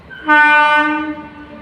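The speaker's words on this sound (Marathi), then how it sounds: "आणि तिकडून ट्रेन येते" An approaching train sounds its horn, a loud sustained multi-tone blast that starts abruptly and holds for about a second before fading slightly, standing clear over faint background noise without talk.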